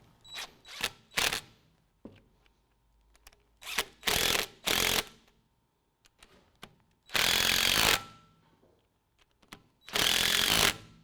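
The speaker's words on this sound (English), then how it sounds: "we can just go ahead and snug up our 18mm bolts" A ratchet snugs up 18mm bolts on a Havoc Offroad 4-inch lift kit fitted to a 2017 Ford F-150 4WD: close, loud bursts of rapid clicking, several short runs and two longer sustained ones, separated by quiet pauses.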